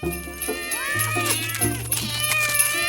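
Several cats meowing in quick succession, close and clear, with drawn-out rising and falling calls overlapping one another over a low background hum.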